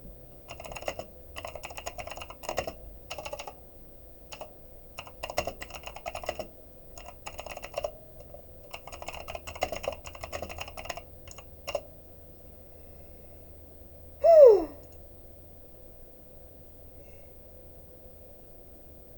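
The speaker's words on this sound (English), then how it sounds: "to make the keyboard sounds quieter, but I need a new keyboard for that because I don't actually want to get rid of my clacking" A clacky computer keyboard is typed on in irregular bursts of sharp, close key clicks with short pauses between runs, and no voices over it.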